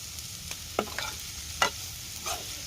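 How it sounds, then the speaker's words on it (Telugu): Ivy gourd (dondakaya) fries in a pan with soft sizzling, broken by several scraping stirs of a spatula at irregular intervals, close and fairly quiet. "మీరు చూస్తున్నట్లయితే ఇలా అయితే ఫ్రై అవుతుందండి."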